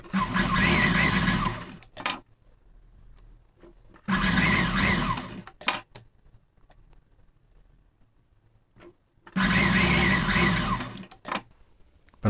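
A sewing machine stitches a blouse's pa-neck lining in three loud, steady bursts of roughly two seconds each, separated by quiet pauses. No one speaks.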